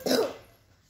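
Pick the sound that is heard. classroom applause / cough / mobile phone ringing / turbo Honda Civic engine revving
cough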